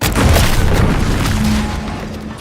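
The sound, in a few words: explosion in a video game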